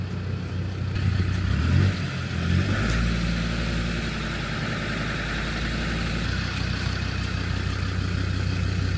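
Diesel engine of a Land Rover Discovery 2 running rich, a steady low rumbling idle with a slight rise in revs near the start, close and continuous throughout.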